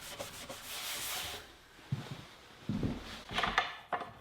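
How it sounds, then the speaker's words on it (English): A drum sander takes light passes with 100-grit paper over a glued-up wooden tabletop, first as a continuous rushing hiss, then as a few shorter, uneven scraping bursts. The sound is close and there is no talk. "Now I can unclamp the top and run it through the drum sander. giving it a few light passes on each side with 100 grit sandpaper."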